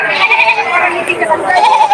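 Several goats bleating close by, overlapping calls filling the whole stretch, loud and continuous with a wavering, nasal quality.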